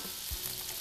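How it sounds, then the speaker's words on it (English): Pork sizzles steadily in a hot pan while being stir-fried for Cantonese braised pork, with a soft continuous crackle and a few dull scrapes of stirring. "Stir fry it again."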